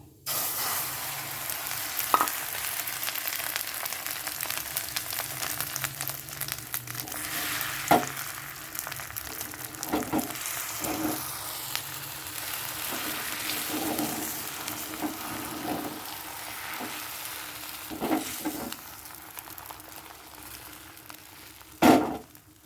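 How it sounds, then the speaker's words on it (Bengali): Two cracked eggs fry in hot oil in a pan, giving a steady crackling sizzle throughout with occasional louder spatters and pops, close up and with no talking. "তেলটা গরম হয়ে গেছে আর এখানে দুটো ডিম ফাটিয়ে নিয়েছি এটা দিয়েই করে নেবো"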